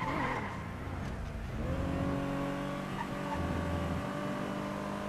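A hydraulic-equipped car driven in a video game, its engine droning steadily and rising in pitch as it accelerates, loud and close throughout with no voices.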